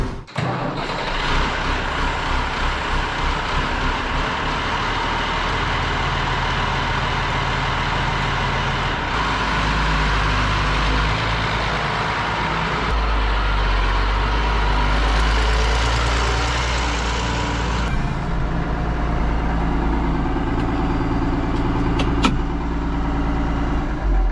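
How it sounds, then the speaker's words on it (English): An old Ford TW-20 tractor engine runs steadily up close, a low chugging drone with a rattly mechanical edge that holds without pause. "the sun is shining and I'm back in a tractor"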